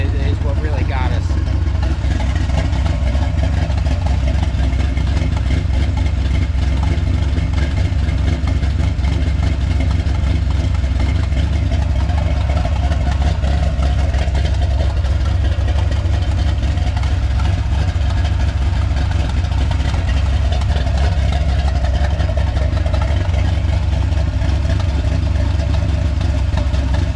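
A car engine runs steadily for the whole stretch with a deep low rumble and little change in pitch, mostly a smooth idle and only faint hints of revving, while people talk over it.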